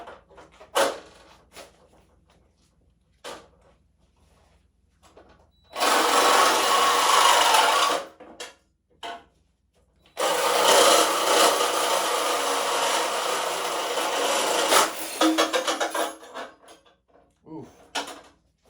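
Sawzall cutting threaded rod, harsh rasping strokes in two sustained bursts separated by quiet gaps with scattered knocks and handling clicks.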